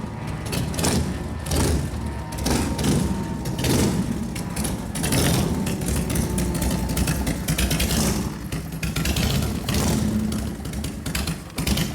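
A 1999 Harley-Davidson FXR2 motorcycle idles nearby with a steady, loping rumble and no breaks for twelve seconds, with some clatter mixed in.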